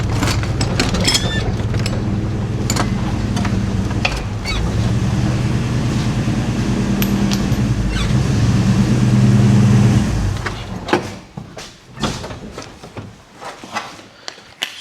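The 44-year-old truck Pearl rumbling as it is driven into the shop, a loud, close, steady engine drone for about ten seconds before it cuts off, followed by scattered clanks and knocks.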